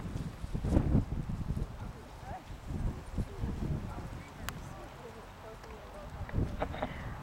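Horses' hooves clip-clop at an unhurried walking pace during a riding lesson, mixed with soft scuffs and outdoor noise, the steps fairly close and uneven.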